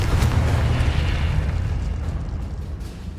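A loud, heavy Confringo blast booms in a Harry Potter video game, with a rumbling burst right at the start that slowly fades across the next few seconds.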